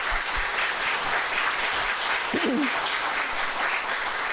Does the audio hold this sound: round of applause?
yes